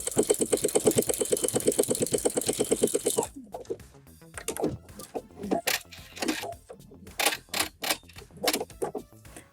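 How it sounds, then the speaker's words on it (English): A sewing machine stitches a rolled hem on fabric for wide-leg pants, running in a fast, even rhythmic chatter at first. It then breaks into shorter, irregular bursts of stitching with pauses between them, close and clear. "we're going to continue sewing"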